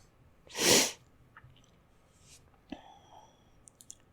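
A single loud, close sneeze bursts out, followed by soft breathing and small rustling sounds.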